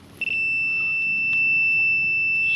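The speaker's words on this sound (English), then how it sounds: "You can hear with the probe going off." A high, steady electronic tone sounds from a metal detector pinpointer probe held over a buried target on a farm, starting after a brief quiet and holding continuously, loud and close.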